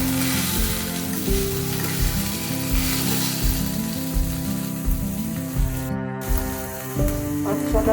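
Banana stem (thor) frying and being stirred in a pan with green chillies. A steady close sizzle runs throughout, with repeated scraping and rattling strokes of the stirring spoon.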